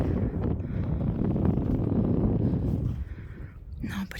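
Cold wind gusting through an empty Russian village, a low, rough buffeting roar on the microphone that holds steady for several seconds, then eases before a short final gust.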